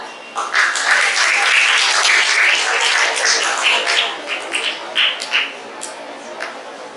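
Audience applause fills a school Independence Day celebration, a dense sustained burst of clapping that swells quickly, holds steady, then thins into scattered claps near the end.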